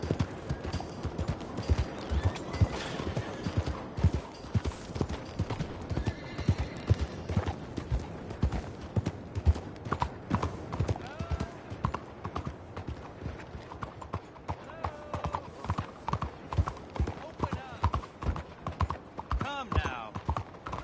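Steady clip-clop of horse hooves trotting at a brisk, even rhythm in the video game Red Dead Redemption 2, with occasional whinnies and faint voices in the background.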